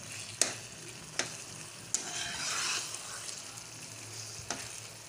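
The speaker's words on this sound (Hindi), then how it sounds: "अचारी बैगन भुन गए, किनारों से तेल छोड़ना शुरू कर दिए इन्होंने" Achari eggplant fries in oil in a pan, a faint steady sizzle broken by a few sharp spatter pops and stirring scrapes, with no voices.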